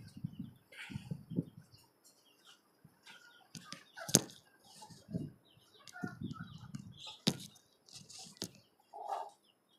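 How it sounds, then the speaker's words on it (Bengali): Desi hens kept in cages on a poultry farm, giving scattered short clucks and calls with wing flaps and rustling close by, plus a few sharp knocks and a brief higher call near the end. "এখানে আমার আরেকটা দেশি মুরগি আছে"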